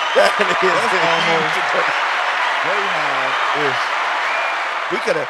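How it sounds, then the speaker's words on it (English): Applause fills the space as a dense, even wash of clapping that keeps going, while a voice talks over it at several points. "We got to applaud that."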